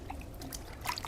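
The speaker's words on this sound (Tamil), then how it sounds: "தண்ணியில் முக்கிட்டு ஜஸ்ட்டு ஒரு சும்மா லைட்டாக இப்படி பிழிஞ்சுக்கோங்க" A cloth dipped in water and lightly wrung out during a home wash of a ceramic and graphene coated car, giving a brief soft trickle and drip of water, fairly faint and close, with no talking.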